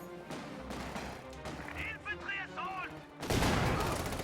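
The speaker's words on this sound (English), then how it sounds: "That was a bundle grenade right there." A bundle grenade goes off in a strategy video game, a sudden loud blast near the end after scattered gunfire and a voice speaking, the burst roaring on for about a second.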